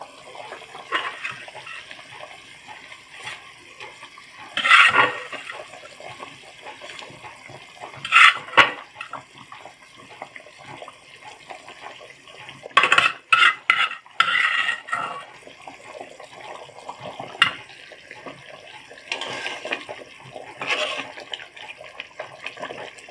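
Pangas fish pieces go into a pot of boiled potatoes for a curry, with scattered clanks of pot and utensil, splashes and soft stirring over a steady low kitchen hiss.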